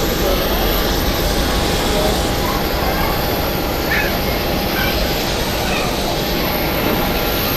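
A heavy jet departing Zurich Airport produces a loud, sustained broadband engine roar that stays constant and close throughout.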